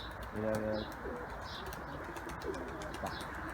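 Young pigeons give a few soft, low coos close by, with a brief burst near the start and fainter calls after, over steady outdoor background noise.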